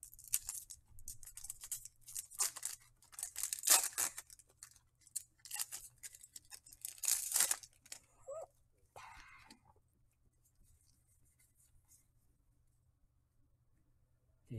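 Pokemon Evolving Skies booster packs being torn open: bursts of sharp, crinkly wrapper rustling in the first half, then quieter scattered handling and near silence.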